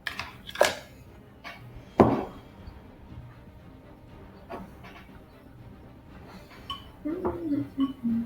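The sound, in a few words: stirring a mixture with a spoon in a bowl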